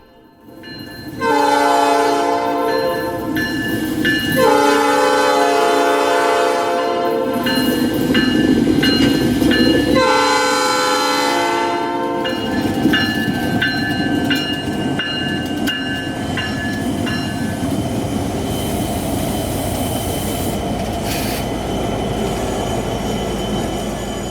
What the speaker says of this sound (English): arrived just in time to come across this random train